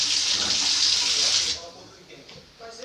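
Cold tap water runs loudly and steadily over a cow's foot being washed for mocotó, then cuts off partway through, leaving quieter handling sounds.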